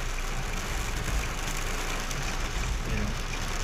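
Heavy rain drums steadily on a car driving through the desert near Al Ain, UAE, a dense continuous hiss with low road and engine rumble beneath, close and unbroken.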